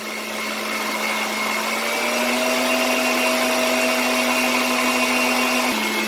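An electric mixer whirs steadily at high speed, beating meringue for boiled icing, a constant motor hum with a slight pitch shift near the end and no voices.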